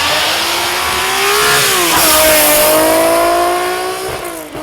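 A pro bracket drag race car at the VW Nationals at Mason Dixon Dragway roars loudly up through its revs, the engine pitch climbing steadily, dipping briefly at a shift, then climbing again before easing off at the end.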